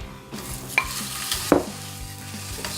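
Six ounces of chorizo sizzles in a pan for charro beans while a spoon stirs it, a constant close fry with a few sharp clacks and scrapes against the pan, no voices.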